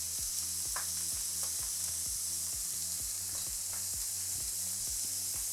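A burger sizzles and fries on a hot, smoky grill, a constant crackling hiss joined by evenly spaced ticking clicks and a low steady hum.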